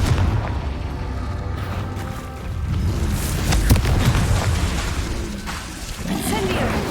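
Confringo blasting spell explosions in the video game Hogwarts Legacy: a series of heavy, low booming blasts with a sharp peak midway through, over a continuous rumbling game backdrop.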